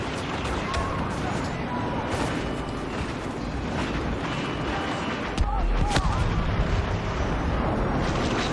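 Rocket blasts from small walkers in the Star Wars Battlefront video game boom through a dense, continuous battle din, with a heavier thump about two-thirds of the way in.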